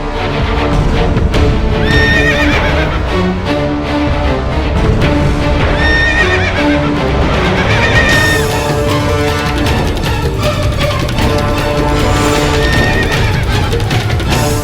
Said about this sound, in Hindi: बाबूजीराज प्रताप का घोड़ा भिदक रहा है।